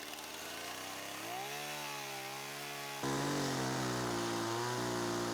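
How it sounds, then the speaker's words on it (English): Chainsaw engine droning steadily as it carves raw timber, pitch rising and shifting under load with a louder surge partway through, close and continuous with no voices. "I'm going to be carving this with a chainsaw."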